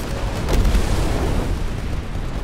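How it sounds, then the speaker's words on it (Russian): A base blows up in the video game Titanfall, a deep, loud, rumbling blast with a brief sharper burst early on, then sustained low roaring debris. "Они хотят взорвать базу."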